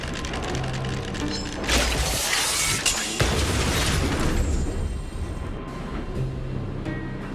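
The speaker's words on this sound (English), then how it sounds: "Oh, wow! We wiped them all out in a single explosion!" A large automaton stealth bomb explodes in Honkai Star Rail: a loud, sustained booming blast with mechanical clattering and debris rumble stretching over several seconds, no voices present.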